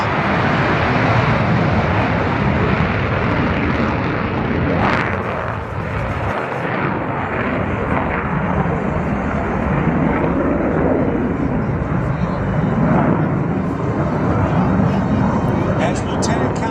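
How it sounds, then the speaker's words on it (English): A US Navy F-35C Lightning II jet going around at the 2022 New Orleans airshow, a loud, continuous, rumbling jet roar filling the whole stretch while an announcer talks over it. "He shoves the throttles forward and goes around."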